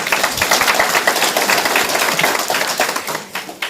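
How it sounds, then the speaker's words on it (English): An audience applauds at a ministerial regional business engagement in the Erongo Region, a dense, steady wash of many hands clapping that fills the room, easing slightly near the end. "I think clap for yourselves"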